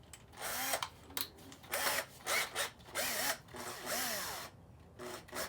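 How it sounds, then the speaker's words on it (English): A power drill widens a screw hole in a teak boat deck, its whine coming in several short, close bursts with brief pauses between. "hold it very steady, and you can drill then the hole bigger"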